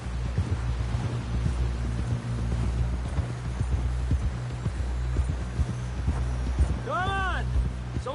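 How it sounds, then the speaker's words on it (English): Horse hooves clip-clop in the Red Dead Redemption video game, a steady trotting rhythm under a continuous low hum and rumbling game ambience, with a brief swooping tone near the end. "Someone help John down off this horse."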